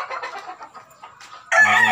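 Gamecocks being conditioned cluck softly in short choppy bursts, then a rooster breaks into a loud, close crow that rings through the final half second.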